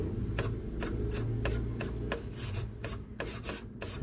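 A toothbrush scrubs ants off the power supply of a Brother DCP-L2540DW printer, making about a dozen quick, evenly spaced rasping strokes close up over a low steady hum.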